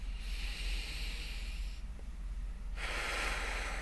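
Slow, calming breaths during an anxiety-relief exercise, long airy inhales and exhales heard close and fairly loud, with no talking.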